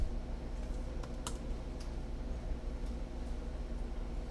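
Typing on a computer keyboard while writing programming code, a sparse run of soft clicks and a few sharper taps over a steady hum, with no voices.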